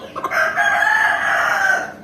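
Domestic hens and a rooster give a loud, close, sustained crowing call of about two seconds, opening with a few short clucks, with no voices.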